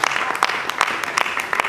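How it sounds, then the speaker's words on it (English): Audience applause at a mentorship summit in Badagry, a continuous wash of clapping with a few sharp, close individual claps standing out above the crowd. "Please give a round of applause to Mrs. Fulker Treasurer Duro."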